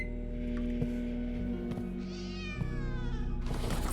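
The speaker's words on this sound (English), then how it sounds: "Oh, we got a kitty!" A cat meows in an apartment near a train station, a couple of drawn-out mewing calls heard over a steady low background hum.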